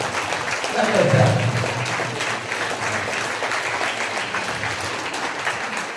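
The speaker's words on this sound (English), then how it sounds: "Give a big clap for all the volunteers in our group." A group of workshop volunteers and attendees breaks into steady, close applause that swells after the first second and continues evenly to the end, with voices mixed in underneath.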